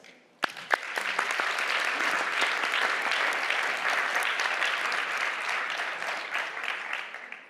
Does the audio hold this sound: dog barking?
no